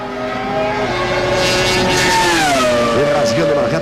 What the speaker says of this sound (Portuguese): Vem rasgando na reta o Alonso